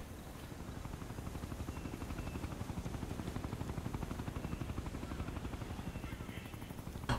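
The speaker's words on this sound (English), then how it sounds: "how does the helicopter that flies right there not see" Helicopter passing overhead in the video game Ghost Recon: Future Soldier, a rapid, steady rotor chop with a low thrumming beat that swells gradually as it draws closer, with no talk over it.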